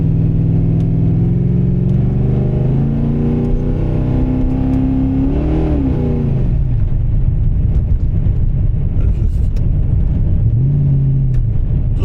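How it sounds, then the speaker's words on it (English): A 355 stroker engine in an HSV Caprice street machine roars loudly and continuously, its revs climbing and falling in several deep, rising surges before settling into a heavy, rumbling idle. "you guys can hear the mighty 355 roaring."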